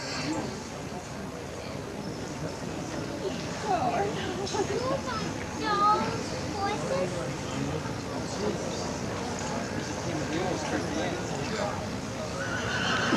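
A horse whinnies loudly a couple of times amid a noisy outdoor crowd at a state fair horse show, with hooves clip-clopping and people talking in the background.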